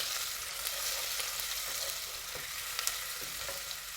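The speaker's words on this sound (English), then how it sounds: "I'm going to saute my onions" Onions sautéing in a pan for goat meat jollof rice, a steady broadband sizzle with a few faint utensil scrapes and taps, close and continuous with no talking.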